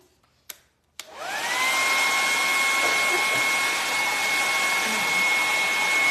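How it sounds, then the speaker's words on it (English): A hairdryer switches on after a couple of sharp clicks and blows steadily with a loud, whining whoosh that holds for several seconds. "Let's just hit this with the hairdryer again."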